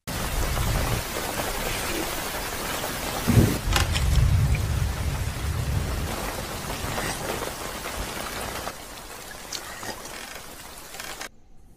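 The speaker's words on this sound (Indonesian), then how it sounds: "Dan saat hujan turun, melalui lubang kecil di sana" Steady rain pours down, a dense, even hiss of drops drumming on surfaces that fills the whole stretch, with a low rumble swelling briefly near the middle before the downpour eases slightly toward the end.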